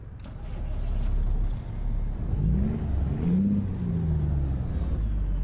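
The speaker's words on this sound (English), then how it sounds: "so let's jump outside again and listen to the engine" A simulated Peterbilt 389 truck's diesel engine in American Truck Simulator rumbles steadily, heard from outside the cab, with rising and falling engine pitch as it revs and a faint whine above, no talking.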